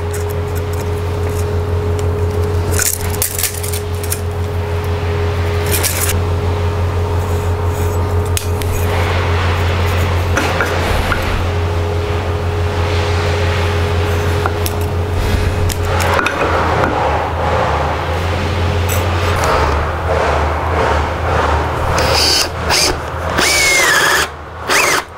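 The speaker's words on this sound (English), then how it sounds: "So first of all, let's drill the clearance hole." Power drill boring a clearance hole for a coach screw while building a table from reclaimed oil drum and scaffold boards, a long steady motor whine with grinding bursts, loud and close, ending in clatter.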